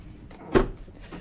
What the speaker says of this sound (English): So when I open one door,